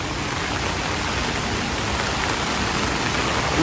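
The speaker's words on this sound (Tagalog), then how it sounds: "Grabe, walang sawa ang ulan." Steady rain falls on a vegetable farm, a dense, loud, even hiss that continues unbroken with no voices.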